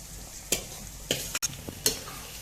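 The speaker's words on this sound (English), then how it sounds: "When the onion have fried, add the marinated vegetables which I have marinated before into that bowl and fry." Marinated vegetables frying in a pan with onions for a spicy restaurant-style vegetable biryani. The sizzle is low and steady, and a few sharp stirring scrapes and knocks break in at intervals. No talk.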